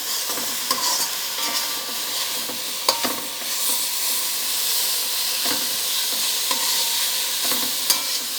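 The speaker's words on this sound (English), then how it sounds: "if it's not burning, it is just stir frying nicely" Vegetables sizzle and crackle steadily as they stir-fry in a hot pan, with occasional scraping stirs and clinks of a utensil, no voices.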